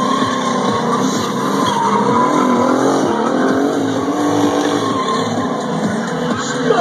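Cars drifting in tight circles at a 2011 stunt drifting event, tires skidding and squealing continuously with engines droning steadily, loud and close throughout.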